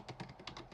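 Computer keyboard typing heard up close, a steady run of six or so crisp key clicks in an uneven rhythm, with no voices.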